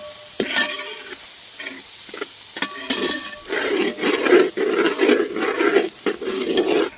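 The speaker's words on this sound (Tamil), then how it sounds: "வெங்காயமும் பூண்டு ஒன்றா வதங்கணும்" Chopped onion and garlic sauté in hot oil in a pan for a mushroom garlic pepper fry, a soft sizzle broken by repeated scraping stirs that grow into a busier, louder frying hiss.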